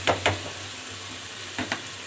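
Fenugreek leaves tossed into tomatoes frying in a pan for a methi aloo dish, a steady soft sizzle broken by a few sharp stirring scrapes and clinks near the start and end.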